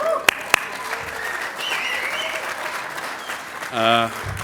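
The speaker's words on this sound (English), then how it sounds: "I'd just like a bit of a round of applause to celebrate that" Audience at a business awards night applauds to mark a 10th anniversary, a steady wash of clapping with a couple of sharp knocks near the start and a brief voice near the end.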